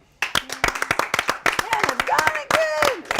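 A small audience claps to welcome a guest onto a film festival stage, sharp irregular hand claps mixed with voices and a few whoops, fairly close.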